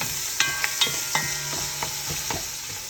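Four garlic cloves sauté in a pan for short ribs, giving a steady sizzle broken by several light scraping clicks as they are stirred.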